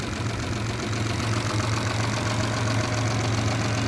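Close, constant Mitsubishi Pajero engine idle: a low, throbbing hum with a slight knocking pulse that holds steady throughout.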